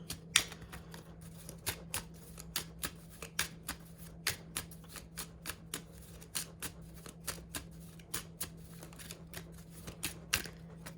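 Chakra cards being shuffled for a reading, a quiet, steady string of crisp card snaps and flicks at an even rhythm over low background hum, close and without talk.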